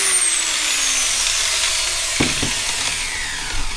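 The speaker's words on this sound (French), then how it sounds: "grâce à ma meuleuse qui a maintenant des charbons tout neufs qui fonctionnent impeccable" An angle grinder fitted with new carbon brushes runs steadily, a loud continuous whine with a falling tone as it spins, used in preparing a Motobécane AV48 moped engine and frame.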